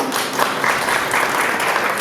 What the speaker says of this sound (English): So applause for Dina.